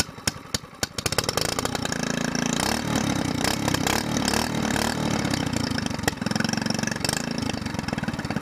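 An SPS longtail boat motor cranked after long storage: a few sputtering pulls, then it catches and runs at a steady, loud, rattling idle close by.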